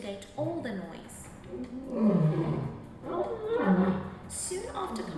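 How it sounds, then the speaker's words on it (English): A male lion roars in deep, drawn-out bellows that rise and fall in long repeated waves, loud and close, while a narrator speaks over the calls. "Declaring themselves the protector with a roar heard for miles"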